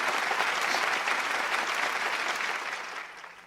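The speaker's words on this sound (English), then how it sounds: "Let's have a round of applause for all of them." Audience at a virtual school mathematics awards function gives a sustained round of applause, dense and steady clapping that fades slightly toward the end, with no voices over it.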